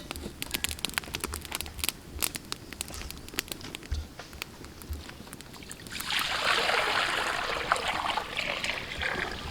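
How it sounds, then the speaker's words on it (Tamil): Pot of water heating on a lit stove for pasta, with a steady hissing, bubbling rush that swells louder toward the end as it comes to a full boil, plus scattered light clicks and taps. "தண்ணி நல்லா சலசலன்னு கொதிக்க ஆரம்பிச்சிருச்சு."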